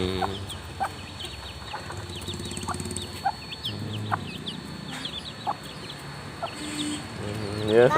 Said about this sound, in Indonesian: Kasih makan ayam kan nek.